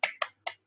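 Three quick sharp claps in a tepuk semangat rhythmic spirit-clap pattern led by a teacher, close and crisp with short silences between.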